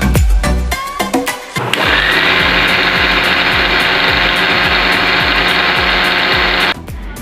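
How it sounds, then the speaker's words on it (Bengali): An electric mixer grinder grinds slices of milk bread into crumbs: a brief clatter, then a loud, steady whirring roar for about five seconds before it cuts off. No one speaks. "দিয়ে বাকিটাকে আমি মিক্সিতে দিয়ে দেবো। মিক্সিতে দিয়ে এটাকে একটা গুঁড়ো বানিয়ে"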